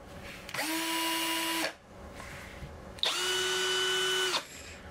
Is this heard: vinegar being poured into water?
no